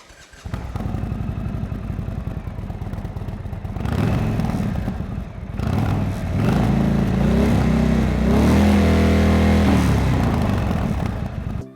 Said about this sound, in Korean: 배기음 소리를 한번 들어볼까요?